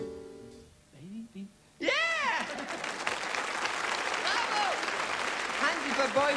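Studio audience applause on a 1981 German TV variety show, a dense burst of clapping that rises suddenly after a brief sung phrase and carries on steadily, with a voice speaking over it.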